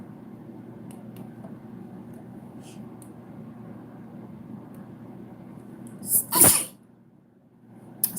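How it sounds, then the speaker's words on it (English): One sharp sneeze stands out near the end, close and loud above a steady low hum on a phone-call livestream. "I'm over here sneezing."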